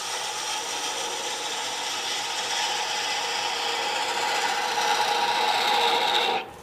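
A gouge hollows out a small wooden ornament on a lathe, giving a steady, close, raspy scraping that holds constant and then cuts off abruptly at the end.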